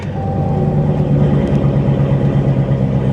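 A wrecked 2016 Dodge Charger SRT 392 V8 rumbles at a steady, deep idle as it is put in gear, a continuous close engine drone with no voices over it.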